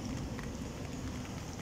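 Steady rain falls close by, a dense continuous hiss and patter of drops with no voices over it.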